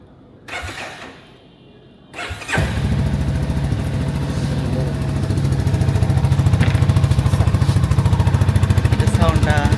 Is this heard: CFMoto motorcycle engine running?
yes